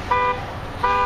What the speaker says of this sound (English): two cars started blowing their horns, like two alarms going off there